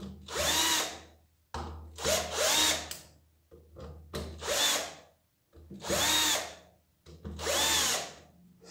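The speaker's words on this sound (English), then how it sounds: "you can even use a battery screwdriver, so you can and do it this way." A battery screwdriver whirs in five or six separate bursts with short pauses between them, each run rising and falling, close by while working on a Nilfisk E 140.3 pressure washer during an oil and seal change.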